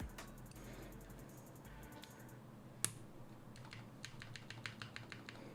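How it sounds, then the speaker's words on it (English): Typing on a custom mechanical keyboard with a resoldered spacebar: a steady patter of key clicks that grows into a faster run of sharp strokes near the end, close and clear with no talking. "It does sound like trash though, the spacebar."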